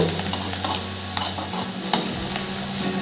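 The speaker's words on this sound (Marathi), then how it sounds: "कांदा कमी गॅसवर आपण छान तेलात वाफवून घेऊ" Onion with curry leaves sautés in oil on low heat for ragi rava upma, giving a close, steady sizzle with repeated stirring scrapes and clicks of a spoon.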